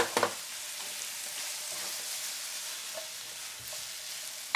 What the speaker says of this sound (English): you guys can't see the deep fryer, it's over here